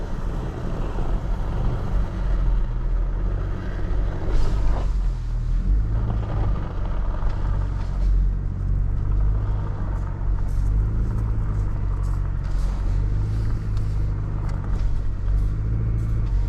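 Chevrolet Colorado ZR2 Bison truck climbing an urban concrete staircase, a steady loud engine rumble with lurching thumps and scrapes as the pickup bumps over the steps.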